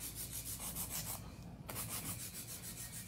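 Steady rhythmic rasping strokes of a hand file on a nail, close and continuous, with a brief pause midway before the scraping resumes.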